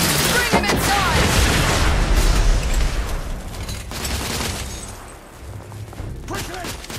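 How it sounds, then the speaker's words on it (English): Sustained suppressing gunfire in the video game The Order: 1886, dense overlapping shots and booms rolling continuously through combat, with shouting voices over the battle noise. "Lay down suppression fire!"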